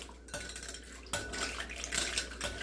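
A hand egg beater whisks eggs in a bowl, giving a fast metallic clatter and whirring against the dish that comes in two loud bursts.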